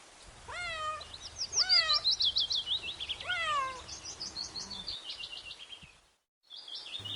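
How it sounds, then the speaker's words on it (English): A cat meowing repeatedly, several clear, rising-and-falling meows close by, followed by a string of high chirping calls, a short silence, then more. "C for cat."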